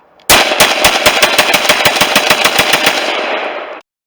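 Rapid rifle fire at an outdoor compound, a loud, steady string of roughly twenty evenly spaced shots over about three and a half seconds, close by and with no talk.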